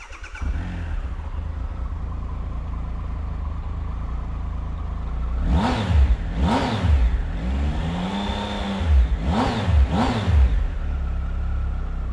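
A Triumph Tiger 1200 XRX Low motorcycle engine cranks and fires into a close, loud idle, then is blipped through several sharp revs that rise and fall, with a longer rev held between them.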